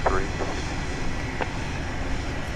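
An airliner's engines roar steadily during a night takeoff at Dallas Love Field, a continuous broadband rumble with a voice briefly audible over it.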